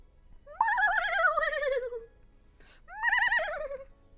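A person imitates a horse neigh in two loud, close whinnies, the first long and wavering, the second shorter after a brief pause.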